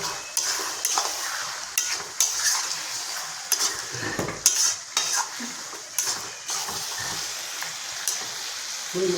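Mutton curry with chopped tomato and green chili being stirred in a kadai: repeated metallic scrapes and clinks of a spoon against the pan over a soft, continuous sizzle, with no voices.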